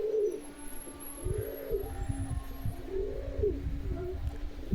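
A top-quality Madras pigeon in Habra coos close by in a repeated, rhythmic series of low, throaty phrases about a second apart. Faint ambient hum sits underneath, with a thin high whine behind it.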